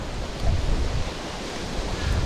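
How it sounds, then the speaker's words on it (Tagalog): Strong wind buffets the microphone at sea during a fishing trip, with low rumbling gusts over a constant roar of water. "Kasi mahangin po masyado."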